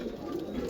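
Faint, soft cooing from a pigeon kept in a fancier's loft, a short low murmur without any voices.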